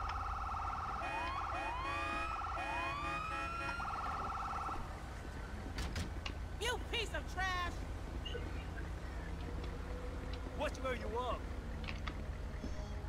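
Emergency sirens from an ambulance in the video game GTA V, wailing and sweeping tones with several rising and falling whoops over a steady low rumble, while a person talks over them.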